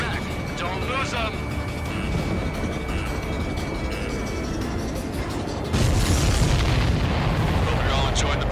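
Explosions and heavy booms in the Ace Combat 7: Skies Unknown combat flight game, rumbling continuously under voices, then a louder burst of blasts near the end.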